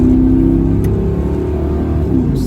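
Engine of a 1970 El Camino fitted with Gear Vendors overdrive and PCS paddle shifters, revving and pulling hard during a test drive, a loud, close, steady low drone heard from inside the cab.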